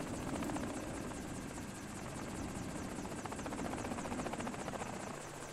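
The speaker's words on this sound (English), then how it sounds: "at just over a minute, the Osprey's rotors have nearly stopped, whereas the helicopter is still going" Rotors of an MV-22 Osprey and a helicopter winding down in Microsoft Flight Simulator 2020, a steady rhythmic whirring chop with a constant engine hum and no talking.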